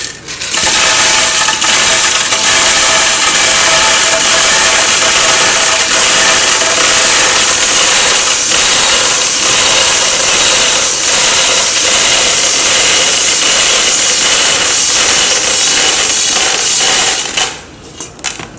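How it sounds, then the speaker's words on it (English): A loud, continuous mechanical whir of a blender motor crushing beans for moi moi, steady for most of the clip before cutting off near the end. "So what I normally do is I use my blender"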